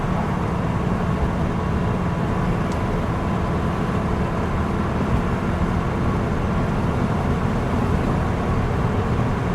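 A 1957 VW Beetle drives along, its engine and road rumble forming a constant low drone inside the cabin, with steady broadband road noise and a brief faint click partway through.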